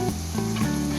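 Green chilies frying in hot oil in a pan, a brief steady sizzle with faint stirring, heard close and alone.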